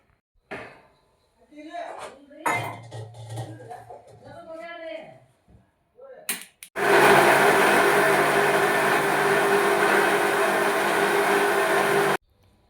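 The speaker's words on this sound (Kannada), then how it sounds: "ಇದನ್ನೇ ನುಣ್ಣಾಗಿ ಮಿಕ್ಸಿಗೆ ಹಾಕೊಂಬಂದು" An electric mixer grinder whirs loudly and steadily for several seconds, blending green chillies and coriander for a home-cooked chicken biryani, after a stretch of a person talking nearby.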